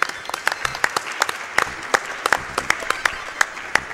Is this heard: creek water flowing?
no